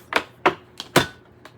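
A big deck of playing cards being handled, giving four or five sharp, close riffling snaps spaced irregularly, with one fainter flick at the end and no talking.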